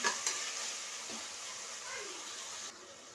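Onions and tomatoes sauté in a pan for a vegetable biryani, a bright close sizzle with a few quick scrapes of stirring, easing off near the end.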